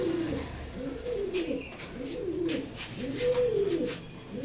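A pigeon coos repeatedly in soft, rolling phrases close by, with a few faint chirps in a quiet room; the bird is a show pigeon in a loft set-up.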